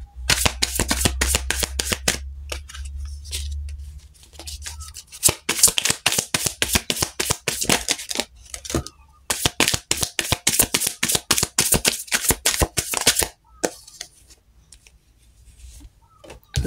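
Tarot cards are shuffled by hand for a reading, giving rapid, crisp riffling flutters in quick bursts with brief pauses, close and fairly loud, with no talking.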